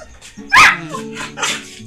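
A pet dog barks and yips close by, one loud bark followed by softer whiny yelps, with no talking.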